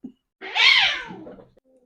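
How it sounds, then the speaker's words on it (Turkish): A pet cat lets out a single clear, drawn-out meow, close and fairly loud, with a faint tap just before it. "Sesler geliyor mu bilmiyorum ama e, kedilerim fazlaca koşturuyor."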